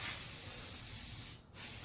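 A sprayer mists water drops onto a resin flag in a continuous close hiss, cutting off briefly for a moment before the spray resumes.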